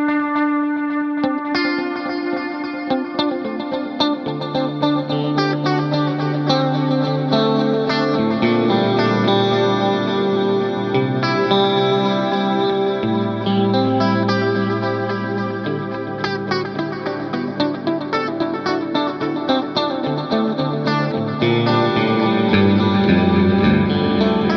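PRS Archon electric guitar through an Axe-FX III preset playing slow chords and notes drenched in delay and reverb, echoes trailing into a wide, floaty wash.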